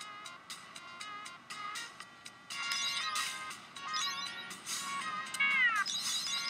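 A cat meows repeatedly nearby in a series of drawn-out, rising and falling cries, some overlapping with tonal electronic beeps.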